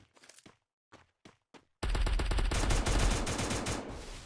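Gunfire in Free Fire, a battle royale video game, starts with a few short separated shots and then becomes a loud, sustained burst of rapid automatic fire that fades slightly at the end.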